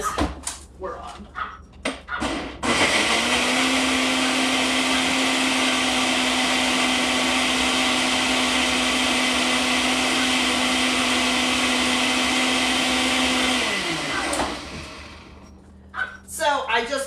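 A Magic Bullet blender whirs loudly and steadily for about eleven seconds, pureeing pet food with water, with a small dog barking before and after and a person talking briefly around the run.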